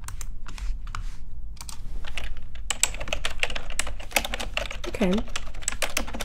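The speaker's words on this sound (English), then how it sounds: "I'm just going to be taking notes on my computer, so don't mind me." Rapid, steady typing on a computer keyboard while notes are taken during a mock job interview, with clicks running nearly nonstop; a voice speaks briefly partway through.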